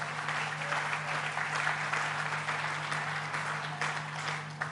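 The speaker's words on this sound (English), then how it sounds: "Let's give them a round of applause." An audience applauds a round for officials at the Tribeca Film Festival in New York, a sustained wash of many clapping hands, moderately loud and even, tapering slightly near the end.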